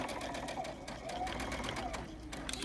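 A sewing machine stitches a Cuddle minky fabric self-binding blanket, a steady close-up mechanical whir and rapid needle chatter running throughout, with a voice heard faintly over it.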